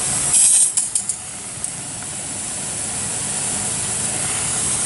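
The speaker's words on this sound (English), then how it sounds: "So you just take your hose pipe, start at the top, just get it rolling real good" A garden hose sprays water onto a paint roller during cleaning, making a steady, loud, broadband rushing hiss that follows a few brief sharp knocks at the start.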